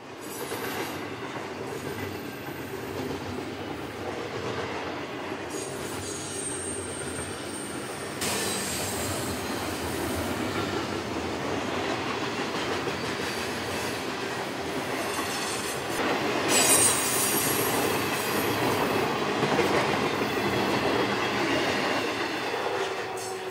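Eastbound Union Pacific freight train bound for Shreveport, Louisiana, rolling over Beaumont Hill west of Hinda, California, a steady loud rumble of railcars with wheel squeal and clacking building louder as it passes close by.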